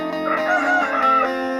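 A crossbred rooster gives one loud, close crow of about a second and a half, a drawn-out, wavering call heard alone without talk.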